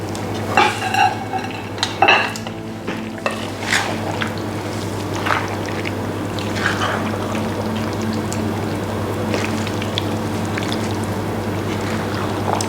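Soft tofu being gently folded through a hot pot with a utensil, light scrapes and wet squishy stirring sounds over a steady low hum, a few sharper clinks early on.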